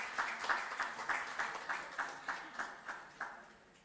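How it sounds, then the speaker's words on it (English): Applause at a youth startup bootcamp in Sri Lanka, faint and fairly sparse, with distinct claps in a loose steady rhythm that thin out toward the end. "Give a round of applause, please."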